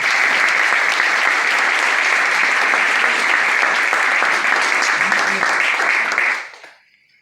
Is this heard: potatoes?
no